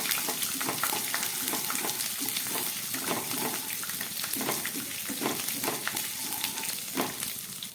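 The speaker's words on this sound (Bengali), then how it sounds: "আর একটু দিয়ে দিচ্ছি গ্রেট করা আদা আদা আমি একবার দিয়েছি কিন্তু এটা ভেজে দিচ্ছি" Grated ginger fries in a pan with a continuous soft sizzle, and a spoon scrapes and stirs through it in irregular clattering strokes.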